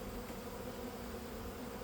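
Honey bees from a package being installed into a hive give off a dense, steady buzzing drone, close and continuous throughout with no talking.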